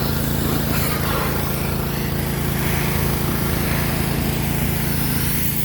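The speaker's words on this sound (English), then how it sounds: "you always got to have a power washer when you cut lumber. We'll wash off the wood real quick" A gas-powered pressure washer runs at a sawmill while washing down freshly cut cedar lumber. Its engine drones loud and steady throughout, with a constant motor hum and no voices.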